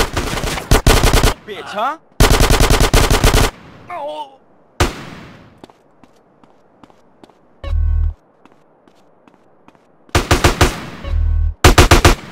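Rapid bursts of automatic gunfire in GTA San Andreas crack loudly in several volleys separated by short pauses, with scattered single shots and footsteps, and a voice speaking briefly between bursts.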